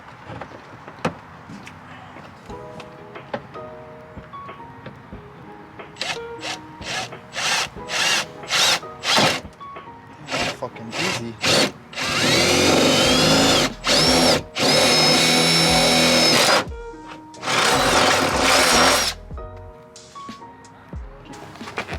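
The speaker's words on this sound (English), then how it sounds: "I'm gonna just drill some holes into the body and through this" A power drill whirs in short bursts, then in longer sustained runs that grow louder, biting through the metal body of a Nissan 240SX; a voice speaks briefly.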